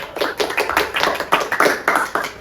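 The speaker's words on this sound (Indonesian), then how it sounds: "Tolong berikan tepuk tangan untuk kita semua." A small audience at a student organization's podcast session gives a brief round of applause. The claps come as irregular, fairly close bursts lasting a couple of seconds, with no talking over them.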